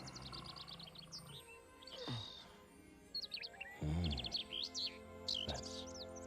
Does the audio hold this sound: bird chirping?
yes